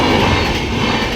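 A train rolls through a level crossing gate close by, a loud continuous rumble of wheels on rails with no talking.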